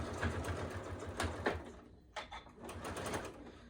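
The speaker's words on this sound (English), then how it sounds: "just going to sew down that line a 1/4 inch" A sewing machine runs a quarter-inch seam on fabric for a shopping-bag dispenser, with a fast, steady stitching whir. It stops briefly, then resumes at close range.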